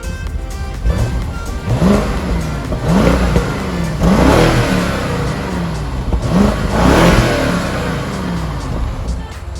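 A 2014 BMW 650i V8 engine revs repeatedly in rising and falling surges, loud and close, with a deep rumbling idle between the pulls.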